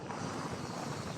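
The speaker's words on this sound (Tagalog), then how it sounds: "So ngayon, ang mahangin, ang dagat ay magalaw." Wind and choppy sea at Manila Bay make a continuous, rough, close-up roar with wind buffeting the microphone and waves churning underneath, no voices.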